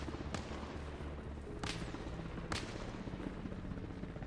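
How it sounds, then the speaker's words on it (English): Grenades exploding in a military video game firefight, heard as three sharp broadband blasts spaced about a second apart over a steady noisy battlefield background. "Oh, throwing grenades."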